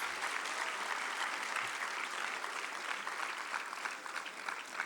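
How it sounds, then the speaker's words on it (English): An audience at the inauguration of an artificial intelligence institute applauds to welcome the Chief Minister of Maharashtra, a steady, even wash of many hands clapping, heard from some distance and fairly faint. "please join me in extending a warm welcome to sir with a huge round of applause"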